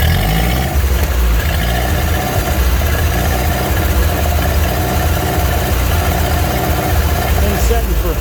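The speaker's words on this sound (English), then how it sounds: "Smokes a little, not too bad, but I mean, hell, it's a 70-year-old tractor." A 70-year-old tractor engine idles steadily after sitting unused for years, a continuous low rumble with mid-range clatter running loud and even throughout, with a voice talking faintly over it.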